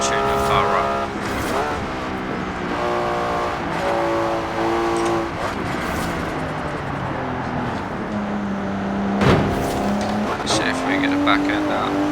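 A racing car in Forza Horizon 4, tuned for grip, accelerates in sixth gear down a straight, its engine droning loudly and steadily with shifting pitch, tire squeal and skid noise joining in, while someone talks over it.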